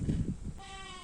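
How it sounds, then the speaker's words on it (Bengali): A goat bleats once in a hilly rural spot, a short wavering call that follows a gust of wind noise. "ছাগল ডাকে ছাগল"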